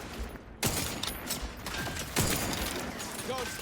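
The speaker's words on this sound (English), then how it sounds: "Guns cocked and loose." Guns cock and fire in the Outer Worlds 2 video game: a few sharp metallic clacks and bursts break through over a speaking voice, with mechanical rattles between them.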